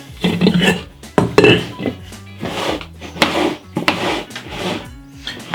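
Cake batter folded gently in a bowl with a spatula or whisk yields soft scraping and rubbing strokes and occasional knocks against the bowl, rising and falling in slow, uneven passes at close range.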